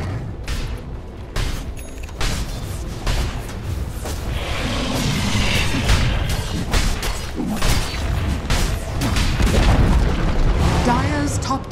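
The Dire top tower crumbles in the Dota 2 video game: heavy booms and crashing debris over busy battle effects, with dense, layered rumbling throughout.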